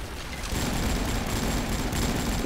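Dense, continuous gunfire and explosions from a video game set in a pirate world, with steady rattling bursts and blasts filling the whole stretch at close range and no clear talk.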